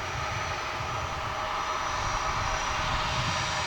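Jet airliner engines roar at Dallas/Fort Worth Airport at night, a loud, steady, broadband rumble and whine that sustains evenly throughout with no voices.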